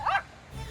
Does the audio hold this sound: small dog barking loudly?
yes